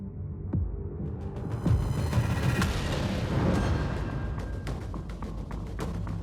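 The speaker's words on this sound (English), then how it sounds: "More than 3 tons of explosives are dropped from the skies." Wartime aerial bombing sound effect, with deep rumbling explosions, sharp cracking blasts and a droning throb layered together at moderate loudness, with no voices.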